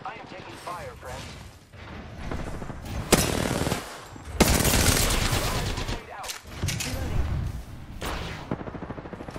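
Gunfire in Apex Legends: rapid automatic bursts and heavy shots, loud and close, coming in uneven clusters with brief gaps, mixed with game voice lines spoken over the shooting.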